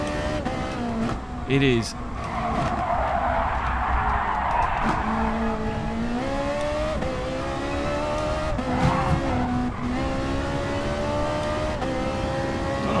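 A Ferrari race car in a sim racing video game holds a steady engine drone, rising and falling with gear changes and a brief tire squeal, under continuous close commentary.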